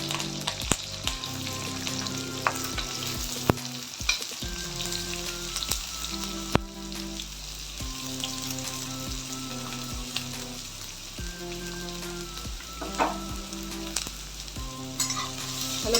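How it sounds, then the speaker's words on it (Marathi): Onion sizzling in hot oil with curry leaves and chillies, a steady crackling fry close by with intermittent stirring clinks and scrapes, no talking. "कढीपत्ता आणि आता कांदा घालून घेऊया."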